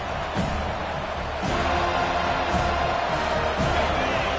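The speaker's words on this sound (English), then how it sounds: "This crowd, full throat, splitting the eardrums and letting them know it's going to be a long day" Simulated stadium crowd in the College Football 25 video game roars in a dense, continuous wall of cheering, with rhythmic thumping bursts underneath that grow slightly louder partway through.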